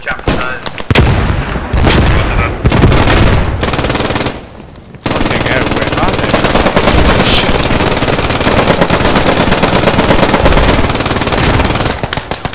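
Intense gunfire in the World War II shooter Post Scriptum during the defense of the Hotel Wolfheze: loud, sustained machine-gun bursts and shots with booms, near and overlapping, while players call out over the noise.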